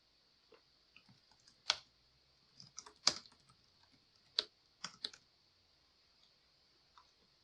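Sparse, crisp clicks of a computer mouse at a desk, scattered irregularly over several seconds. A faint steady electronic whine sits underneath. Nobody speaks.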